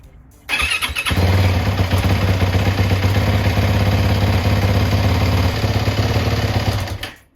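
A Yamaha WR450F enduro motorcycle engine fires up after a short pause, then settles into a steady, loud, close idle before cutting off near the end.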